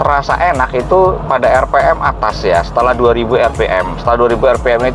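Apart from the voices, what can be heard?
None of the usual background noises is heard.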